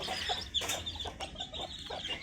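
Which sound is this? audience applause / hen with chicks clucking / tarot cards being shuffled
hen with chicks clucking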